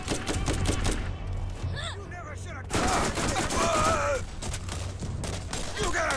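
Rapid gunfire bursts from a revolver in the shooter game Borderlands, loud and clustered at the start and again later, mixed with in-game creature cries and groans.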